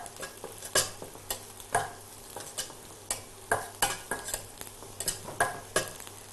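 Onions sautéing in a pan for a parotta dish, a soft sizzle under repeated sharp scrapes and clinks of a spatula stirring against the pan at an uneven pace.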